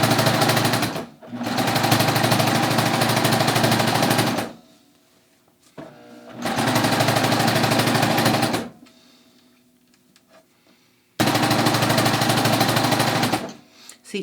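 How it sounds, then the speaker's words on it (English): A serger overlock machine stitches a yoga pants waistband in three long, loud, even runs of fast mechanical whirring, separated by quiet pauses while the fabric is handled. "And now I'm going to start serging."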